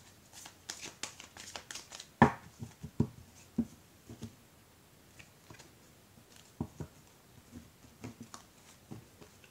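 Tarot cards are cut and handled close by, giving soft irregular snaps, slides and taps of card stock on a table, some sharper than others, in a quiet room.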